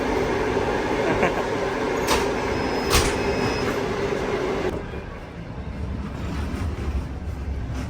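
A train rumbles steadily along the rails on a long-distance route in Russia, from Saratov to Krasnodar, with a rattling clatter, a couple of sharp metallic clanks, then the roar eases slightly toward the end.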